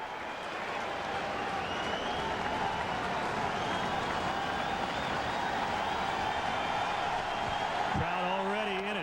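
A ballpark crowd at a Brewers at Cubs baseball game in Chicago roars and applauds steadily, a broad, sustained wash of cheering beneath a broadcaster's voice.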